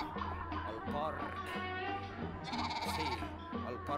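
A goat bleats in a performance piece. Several wavering, nasal bleat-like cries sound fairly close, layered over a busy musical and mechanical background, with a voice also present.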